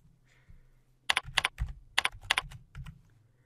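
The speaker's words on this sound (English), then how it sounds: "Gonna have to type them." Quick bursts of typing on a computer keyboard while entering data, close and crisp, with clustered keystrokes and short pauses between runs.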